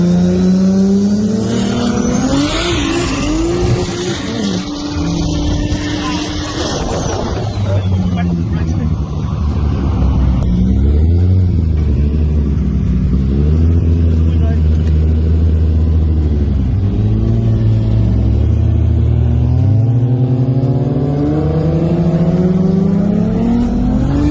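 A modified car revs and accelerates hard in repeated loud surges of rising and falling engine pitch, played back from a recording, with people talking faintly underneath.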